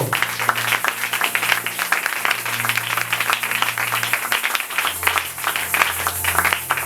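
A church congregation at a Sunday service claps loudly and continuously, a dense, sustained burst of applause with a few voices calling out beneath it.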